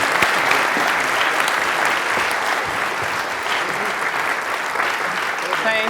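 A crowd at a science talk about black holes claps steadily and fairly loudly for several seconds, welcoming a speaker to the stage with a sustained, even wash of applause.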